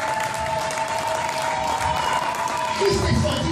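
Church congregation applauding to acclaim God during a service, a steady wash of clapping that continues throughout, with voices mixed in and a louder swell near the end.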